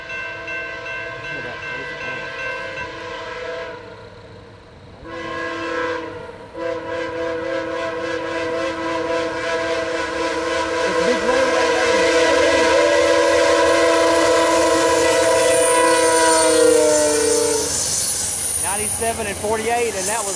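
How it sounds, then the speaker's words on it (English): An Amtrak Crescent #20 passenger train passes at close range, sounding a loud sustained horn with several blasts, while wheels and cars rumble beneath and rise to a steady roar as it goes by. "Amtrak 20."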